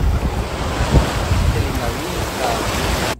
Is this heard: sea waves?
yes